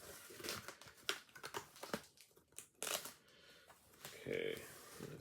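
Cutting open a package of comic art, close crinkling and cutting of packaging material in short irregular bursts with scrapes and rustles, fairly quiet.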